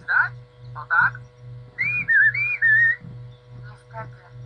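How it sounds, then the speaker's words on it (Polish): A person whistles a short melodic phrase of rising and falling notes, preceded and followed by a few brief chirpy tones, close and clear over a low steady hum. "Umiesz gwizdać? O tak?"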